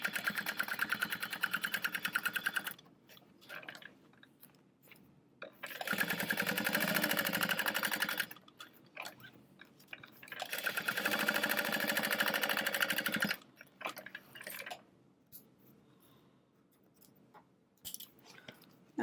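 A sewing machine runs a quick stay stitch on a crossbody bag panel in bursts of rapid mechanical whirring, with short pauses between runs and a longer stretch of quiet at the end.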